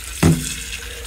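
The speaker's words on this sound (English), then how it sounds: "So we're just gonna turn the water on" Tap water gushes into a jar being filled for a pickling lime solution to water-glass eggs, a sudden close rush of running water that settles into a steady flow.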